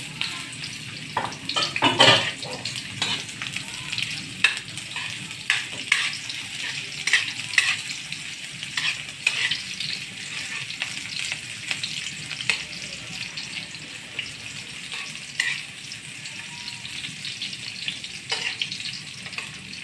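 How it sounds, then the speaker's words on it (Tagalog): Bitter gourd (ampalaya) sautéing with onion and garlic in a pan for lunch: a steady oil sizzle with repeated scrapes and knocks of a spatula stirring, close and fairly even throughout. "magluluto na tayo ng igigisa natin yung ampalaya"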